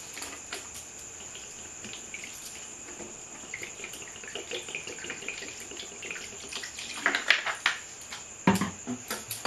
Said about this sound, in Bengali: এটা আমি একটু ঠান্ডা জল দেব। ঠান্ডা জল দিয়ে এটা ঠান্ডা করে নেব।